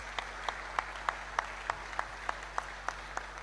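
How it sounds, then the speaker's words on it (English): Audience applause after a university lecture at a career services event, heard as a faint, slow, rhythmic clapping with about a dozen even claps spaced roughly a third of a second apart. "Please, let's give her again one more round of applause."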